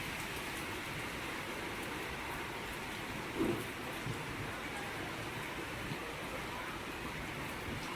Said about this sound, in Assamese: বহুত বৰষুণ দি আছে এয়া বতাহ মাৰি আছে